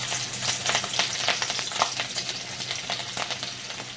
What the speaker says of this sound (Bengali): ওই তেলের ভিতরেই এখন দেব কাঁচা লঙ্কা কুচি